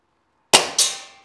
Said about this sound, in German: wir geben nochmal die letzten paar Schuss raus